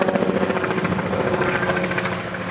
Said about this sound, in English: As the whoop, whoop, whoop of a helicopter goes by.